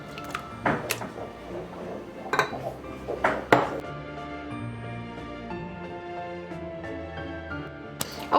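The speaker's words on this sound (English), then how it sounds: "Now we will add in our eggs and we will whisk again." Eggs are whisked into Christmas cake batter in a bowl, giving repeated clinks and scrapes of a whisk against the bowl, close and fairly loud, with sharper knocks at intervals.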